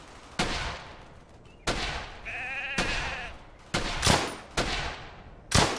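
Sheep bleat from a Brothers in Arms: Hell's Highway World War II shooter, with a wavering cry near the middle among loud, sharp gunshots that repeat at intervals.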